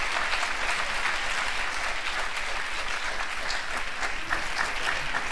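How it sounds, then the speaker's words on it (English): Dense, steady applause from a large audience at a university graduation ceremony for health and allied sciences, sustained and even throughout without pauses. "Shall we keep the applause going?"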